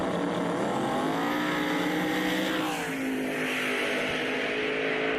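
Drag racing street cars make a side-by-side pass down a racetrack at a Carolinas street-racing event, a loud continuous engine roar whose pitch sweeps as the cars scream past close by.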